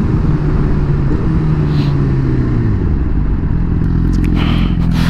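Suzuki GSX-R1000R motorcycle slowing to pull over, a loud continuous engine drone with the pitch falling as it decelerates, wind noise throughout.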